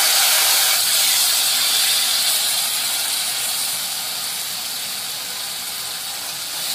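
Chopped tomatoes drop onto well-sautéed onions in a hot pan for prawn biryani, setting off a bright, steady hiss that starts loud and slowly fades, heard alone without talk.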